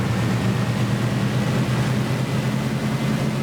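A steady, droning engine rumble comes from a Supermarine Spitfire Mk Ia taxiing in a flight simulator game. It sounds constant and fairly loud, with no talking over it.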